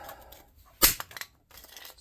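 An electrical switch salvaged from a dryer is smashed apart, giving one loud sharp crack followed by a few quicker, smaller knocks, with quieter handling noises before and after.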